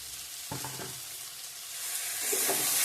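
Ground chili and cumin sizzle in hot oil in a pan, and the hiss grows slightly louder. A spatula makes two short scraping stirs.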